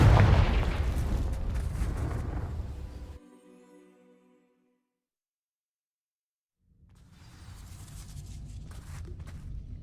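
A Confringo fire spell from Hogwarts Legacy bursts loudly against dry vines, a booming blast that fades through a low rumble into silence before a softer crackling swell returns.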